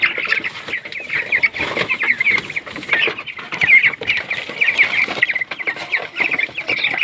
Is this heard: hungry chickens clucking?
yes